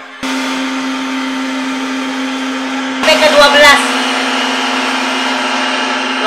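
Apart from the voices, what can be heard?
electric mixer beating cake batter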